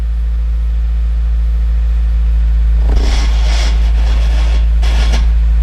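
A Subaru WRX engine idles high at about 1700 RPM, a steady close low hum running throughout, with brief brighter mechanical bursts partway through.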